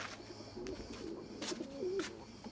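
White tumbler pigeons, Erzurum whites, coo softly in short warbling phrases against a quiet outdoor background, with a few brief rustles or flaps breaking in.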